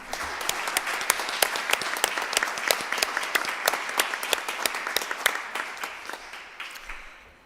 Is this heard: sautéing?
no